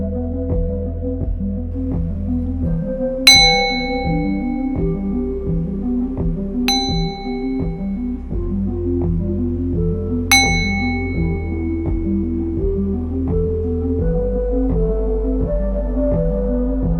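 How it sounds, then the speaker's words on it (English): Three clear meditation bell strikes ring out several seconds apart, each with a long shimmering decay, over a low sustained droning tone. "until you hear the sound of the bells"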